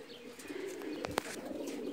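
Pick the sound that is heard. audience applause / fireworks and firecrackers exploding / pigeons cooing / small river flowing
pigeons cooing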